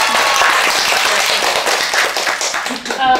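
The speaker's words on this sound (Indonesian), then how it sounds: "Aduh, luar biasa, tepuk tangan dulu sekali Talita." An audience at an Indonesian student talk show claps for a guest, producing a dense, steady burst of applause that continues under a talking voice.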